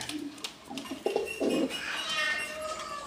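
Fancy pigeons coo in a loft, a few low throaty murmurs rising and falling close by, with some rustling and scattered background noise around them.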